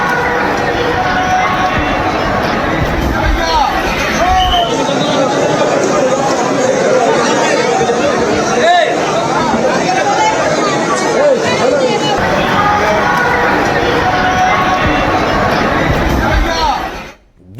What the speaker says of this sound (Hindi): बड़ा मंगल पर अयोध्या में श्रद्धालुओं की भारी भीड़ थी हनुमानगढ़ी में